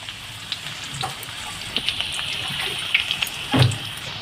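Spices sizzling in hot oil after onions for an egg fry masala, a soft steady sizzle with scattered small pops and a brief louder clatter near the end, close by and without speech.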